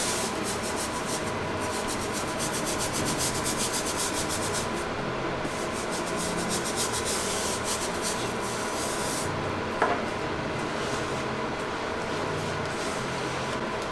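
A soft bristle brush scrubs the midsoles of an Off-White Jordan 1 sneaker, a steady close rubbing that runs without a break for about fourteen seconds, with no voices.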